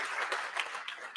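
Audience clapping at a charity party, a brisk, fairly distant patter of many hands with a few sharper individual claps standing out, steady and unbroken from start to finish.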